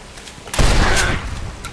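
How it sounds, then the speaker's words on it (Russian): Gunshot in a video game: one sharp, loud blast with a short booming tail, standing alone. "Даже с одного выстрела убивает,"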